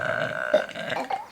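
A single close, loud burp rumbles for about a second, with a second shorter eruption trailing right after it.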